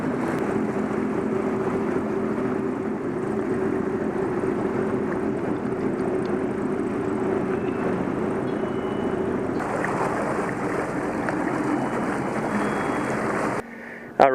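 Sea-Doo personal watercraft cruising on the water near Tobermory, a steady close engine drone with water rush and wind, continuous and loud before cutting off near the end.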